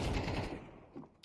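Rapid automatic gunfire shooting through a wall in the tactical shooter CS2, a dense, loud burst of shots that fades over about a second, then one short sharp crack at the end.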